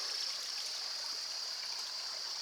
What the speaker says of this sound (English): I can hear some water running